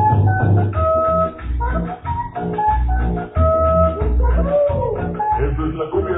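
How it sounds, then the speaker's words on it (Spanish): Lively cumbia music with a steady bouncing bass and rhythmic keyboard melody, playing loud and continuous with a slightly muffled, band-limited tone. "qué mejor con la música cumbia"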